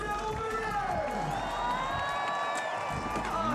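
Crowd at a pro men's street skateboarding contest cheering and whooping, a loud sustained roar with shouts rising over it, alongside skateboard wheel noise and commentators talking.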